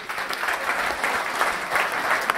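An audience at an awards ceremony applauds, a steady and fairly close wash of many hands clapping that carries on without pause.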